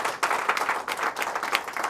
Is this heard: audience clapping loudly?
yes